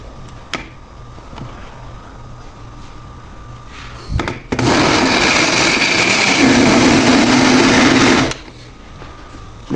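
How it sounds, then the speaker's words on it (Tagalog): Electric blender whirring steadily while mixing a lemon drink, a loud sustained motor roar that starts abruptly, runs for about four seconds, then cuts off. "May blender dito."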